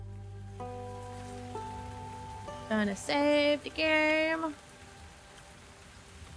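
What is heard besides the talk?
rain falling in a video game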